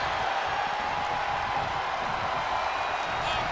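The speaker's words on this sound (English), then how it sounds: "What a raucous crowd here tonight." A steady, dense roar from a raucous arena crowd in the WWE 2K23 wrestling video game during an elimination match, continuous and loud throughout.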